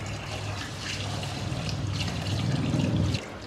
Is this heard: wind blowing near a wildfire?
no